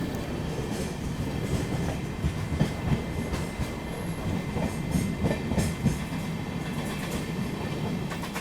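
A passenger train rolls into platform 6 at Pandit Deen Dayal Upadhyaya Junction, a steady close rumble with rhythmic clickety-clack of wheels on rail joints and faint squeals, no talk.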